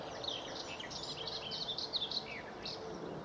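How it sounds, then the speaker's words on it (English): A blackcap sings a quick, warbling phrase of bright notes in the mid-distance over a soft hiss of ambient rural noise on a walk between Uckfield and Lewes. "black cap."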